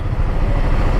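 A motorcycle engine runs steadily close by during a Himalayan ride, a loud, continuous low drone with no talking.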